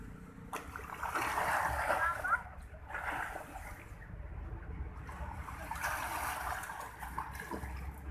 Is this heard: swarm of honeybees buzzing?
no